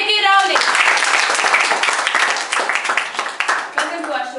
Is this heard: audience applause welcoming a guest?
yes